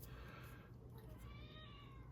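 A hungry house cat meows softly indoors, a faint drawn-out call over a steady low hum, with no one speaking.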